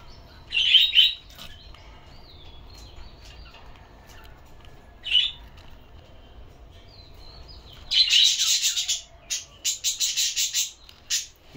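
Baby birds being hand-fed by syringe give short bursts of high, shrill chirping, with a quiet stretch between the early calls and a busier rapid cluster of chirps near the end.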